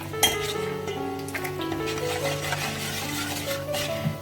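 A spoon stirring salt into coconut chutney in a bowl, with scraping strokes and light clinks against the bowl, fairly close and unaccompanied by talk.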